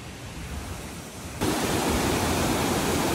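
A river stream in rural Nepal, crossed on a traditional family fishing trip, gives a steady broadband rush of flowing water that grows louder and closer partway through, with no voices.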